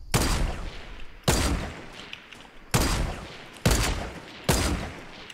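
Sniper rifle shots in a multiplayer video game battle, five loud, sharp cracks about a second apart, each followed by a rumbling decay.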